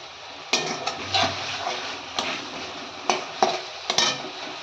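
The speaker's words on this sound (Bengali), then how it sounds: "এটাকে আমি আরও মিনিট দু মিনিট মতো কষিয়ে নেব ভালো করে গুঁড়ো মশলাটা" Ground spice masala being stir-fried in oil in a pan: a steady, close sizzle with repeated scraping strokes and light clinks of the spatula against the pan, and no voice.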